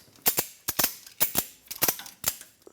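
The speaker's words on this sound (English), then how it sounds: "Let's keep ratcheting." Ratchet wrench tightening a track bar bolt on a 2003-2009 Dodge Ram 2500, heard as short sharp clicking bursts in about six quick clusters, close and fairly loud.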